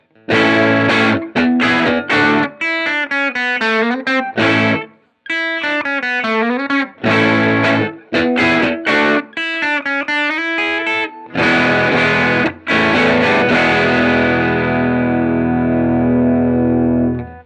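Electric guitar run through a Benson Germanium Boost pushing a Strymon Iridium amp simulator, playing loud, driven riffs and sustained chords with short gaps, ending on a long ringing chord that decays.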